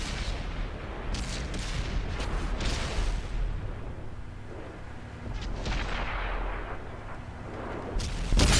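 Tank cannon and self-propelled artillery fire in the World of Tanks console game, with the IS-7 heavy tank taking hits: a series of loud sharp blasts and booms with rumbling decay, some shots closer and harsher than others.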